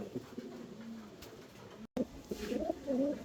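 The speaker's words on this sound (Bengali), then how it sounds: "এক দুটা মিলি বা রেসার মিলি বা রেসার রানিং কবিতর ডিম বা চৌকে আছে" Racing pigeons cooing in a loft, low throaty rolling coos repeated close up, briefly cut by a short gap and then resuming louder.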